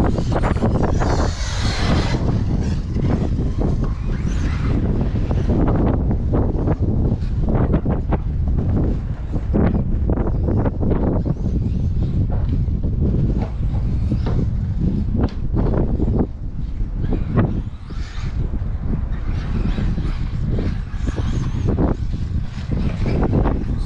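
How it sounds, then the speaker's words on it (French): Strong gusty wind battering the microphone at an outdoor RC race track, a loud continuous buffeting roar with rapid crackling gusts throughout and a brief lull near the end. "Il y a un gros vent qui souffle là sur le circuit."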